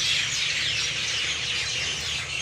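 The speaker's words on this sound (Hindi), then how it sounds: "शाम का थोड़ा टाइम हो गया इसलिए चिड़ियाँ वगैरह बोल रही हैं" Several small birds chirp and tweet continuously through an evening outdoor setting in Pakistan, a dense, bright chorus of overlapping calls at moderate distance with no talking.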